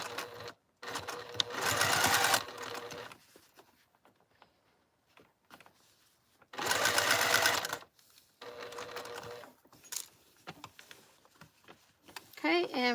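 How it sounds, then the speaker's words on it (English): A sewing machine stitches a seam at an eighth-inch allowance in two loud bursts of rapid stitching, separated by quieter handling noises and soft talk between runs. "Basically stitching that down in place."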